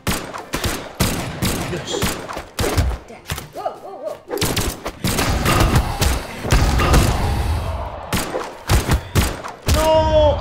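Rapid bursts of gunfire and heavy thuds from the Brawlhalla video game, loud and repeated in quick volleys with brief gaps, a short spoken word partway through.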